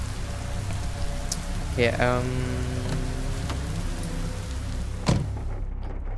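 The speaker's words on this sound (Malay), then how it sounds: "Sedangkan sekarang ni waktu hujan." Steady rain hisses throughout a scene in the video game The Shopping List, a constant soft wash beneath a brief spoken word and a few tonal game sounds.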